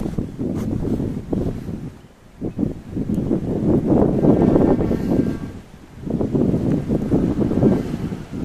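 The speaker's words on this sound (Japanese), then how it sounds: "また風が吹いてきましたね。" Outdoor wind gusts buffet the microphone in rumbling waves, rising and falling over several seconds with no other sounds.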